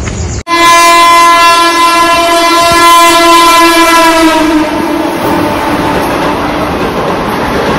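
A Central Railway train at Mumbra station sounds a long, loud horn right up close, and the rumble of the train continues underneath as the horn fades.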